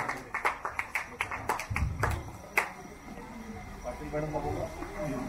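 Audience clapping at a school children's costume competition, a run of sharp separate claps starting at once and thinning out, with a voice talking over it.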